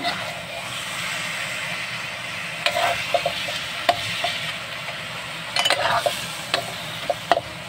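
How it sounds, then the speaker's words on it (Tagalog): Barbecue-marinated meat sizzling in a frying pan, a steady broad hiss with intermittent clicks and scrapes of a utensil stirring, close and moderately loud with faint speech in the background. "magluluto ako ng barbecue dito sa kawali"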